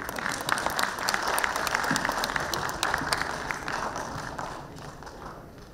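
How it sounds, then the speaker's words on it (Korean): An audience at a lecture applauds as the speaker is welcomed, a moderate crowd clapping steadily at medium distance before gradually thinning out. "여러분 박수 부탁드립니다."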